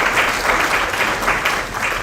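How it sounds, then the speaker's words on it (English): Audience applause fills a talk-event hall, a dense, loud, continuous patter of many hands clapping at once with no pauses and no voices over it. "Don't clap at the beginning."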